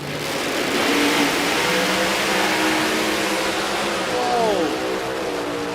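A drag racing car engine revs hard and loud, pitch climbing and then dropping sharply near the end, with a steady roar underneath throughout.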